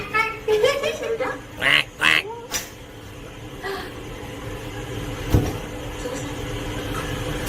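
A young girl imitates a duck with several quick nasal quacks near the start, clear and close, followed by quieter room noise and a single sharp knock.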